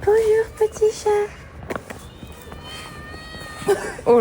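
A cat meows a few times in short, mid-pitched calls near the start, outdoors on a hike near Leysin, while people talk and greet it.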